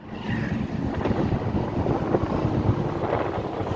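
Strong gusty wind buffets the microphone outdoors on a Kathmandu street, making a steady loud rumbling roar that runs unbroken through the whole stretch.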